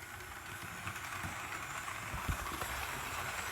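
A model train running around 22-inch radius curves: a faint, steady rolling rumble with soft clicks and rattles under a constant hiss, fairly quiet and without talk.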